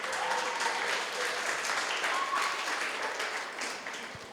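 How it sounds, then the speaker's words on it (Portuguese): A church congregation applauding, a steady wash of clapping from many hands that holds evenly for about four seconds and fades slightly at the end. "Você pode aplaudir ao Senhor?"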